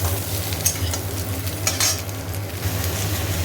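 Ginger paste, salt and tomato frying in a pan, a steady close sizzle with scraping stirs and brief spatter bursts over a low constant hum.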